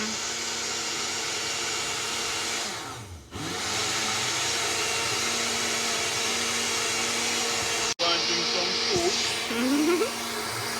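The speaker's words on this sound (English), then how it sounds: "More in the blender." At a juice bar making juice, a blender whirs loudly and steadily for about eleven seconds, dipping briefly partway through as the motor strains, with faint voices in the background.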